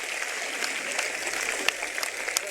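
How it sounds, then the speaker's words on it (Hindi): Crowd applause at a BJP candidate's election rally in Bhadra, with Vasundhara Raje speaking, forms a steady, dense wash of clapping that holds at an even level throughout, with a few sharper claps standing out. "जोरदार ताली बजा के"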